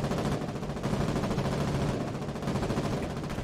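Dense, continuous gunfire rattles in a war game, with rapid overlapping shots forming a steady, loud barrage.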